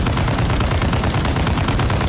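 Rapid sustained automatic fire from the ROM (RPK-style) light machine gun in the video game Modern Warfare 2, a dense, loud, continuous burst of shots with no talking.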